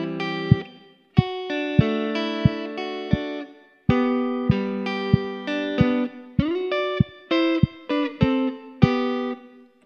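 Clean electric guitar strums chords and picks notes of a song, measures 25 to 28, in a rhythmic progression, each attack ringing briefly before the next, with a few pauses between phrases.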